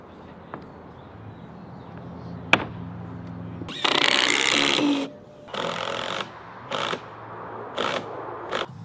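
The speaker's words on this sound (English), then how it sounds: "All right, so I just cut this piece of material." A power saw bites through a piece of composite decking board in several loud, harsh bursts: one long cut of about a second followed by three or four shorter cuts, with quiet gaps between them.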